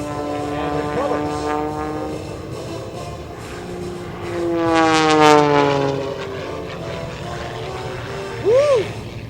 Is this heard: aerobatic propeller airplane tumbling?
yes